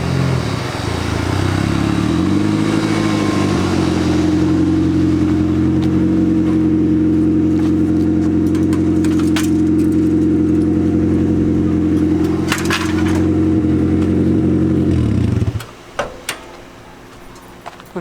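A turbo Honda Civic rolls in with a loud, steady engine drone and a few rev swells for about fifteen seconds. The engine then cuts off abruptly, leaving a few light clunks and clatters.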